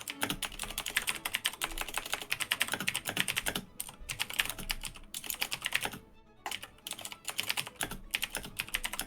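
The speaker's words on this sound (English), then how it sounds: "That is the most excited keyboard I've ever heard." Rapid, continuous clatter of keys on a mechanical computer keyboard, close and fairly loud, with short pauses between bursts of fast typing and no voices.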